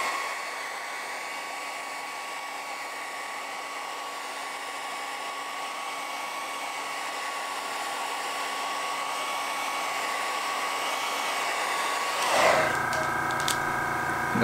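A heat gun blows steadily, close and loud, while heat-setting fresh paint on a fishing crankbait. The whoosh runs continuously and then shifts briefly near the end.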